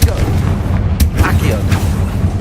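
Confringo fire spell explosions in the Hogwarts Legacy video game on Xbox Series X, heard as a series of deep booming blasts with sharp bursts, loud and continuous under game speech.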